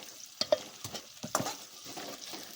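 Onions for chicken sukka fry are stirred in a pan, giving soft sizzling with a few sharp scrapes and clinks of the spoon, fairly quiet and close.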